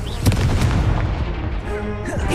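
A Confringo explosion spell in the video game Hogwarts Legacy bursts with a loud, dense boom. Crackling blasts and dense game action fill the short stretch, with faint voice-like tones mixed in.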